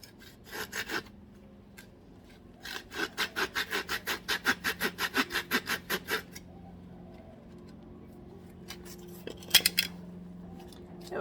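A hand saw cuts through wood for a first mortar and tenon joint, a quick run of about fifteen rhythmic rasping strokes, close and fairly quiet, with a few scattered scrapes before and after.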